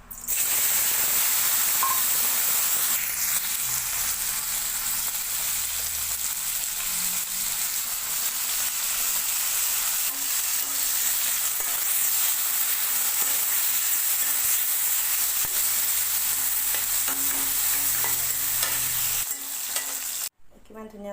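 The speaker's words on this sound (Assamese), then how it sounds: "কিমান ধুনীয়াকৈ ভাজিলোঁ ভেন্দিখিনি আৰু কাচকলখিনি।" Okra and green banana frying in a pan with oil, a loud, steady sizzle and hiss with occasional stirring scrapes that runs almost unbroken before cutting off abruptly near the end; no voices.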